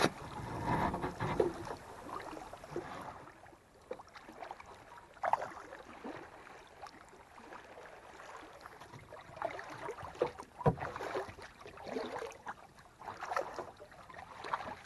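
Kayak paddling into a slot canyon, quiet intermittent paddle strokes and water swishes with light wind noise, fairly faint and without talking.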